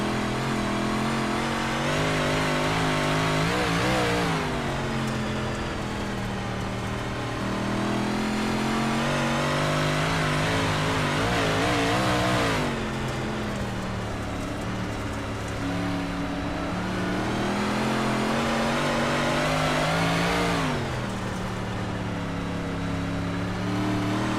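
A dirt track race car engine in an esports racing game drones loudly and continuously, rising and falling in pitch as it revs through each lap with no talk over it.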